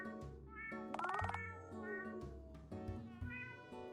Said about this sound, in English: Displeased cat noises.